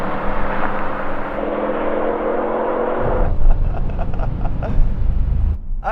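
Three performance sedans, a V10 BMW M5, a Mercedes-AMG E55 and an Audi RS6, in a drag race: a loud, steady engine roar that shifts abruptly partway through into a rougher, pulsing drone with wind buffeting.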